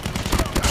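Rapid gunfire from a weapon in the video game Call of Duty, a close, loud string of quick shots lasting under a second.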